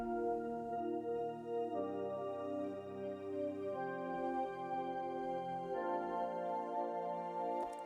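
Processed synth organ chords for dreamy indie pop, softer and washier with a warm low end, several sustained chord changes gliding into one another, quiet and alone without speech.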